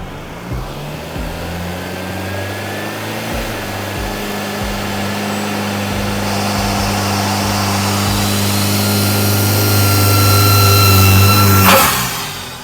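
Turbocharged Honda EP3 engine revving up, a rising, steady drone with tonal whine that builds for about eleven seconds before cutting off with a sharp blow-off valve burst near the end.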